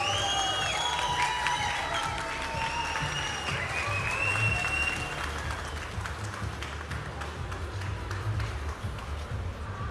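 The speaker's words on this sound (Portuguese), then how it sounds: "Uma salva de palmas, senhoras e senhores" A large crowd at the Brasil Game Show 2019 applauds and cheers for a Mortal Kombat creator taking the stage, loud sustained clapping with whoops and whistles that gradually eases off.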